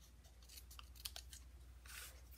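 Scissors snipping through craft material in a papercraft stamping project, a few quick crisp cuts close by and fairly quiet.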